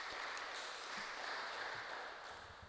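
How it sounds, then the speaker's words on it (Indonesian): A church congregation applauds at a Sunday service, a continuous wash of clapping from many hands that stays fairly even and distant before easing slightly at the end. "Mari kita berikan tepuk tangan yang meriah"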